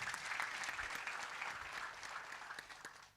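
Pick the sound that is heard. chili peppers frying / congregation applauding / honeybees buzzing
congregation applauding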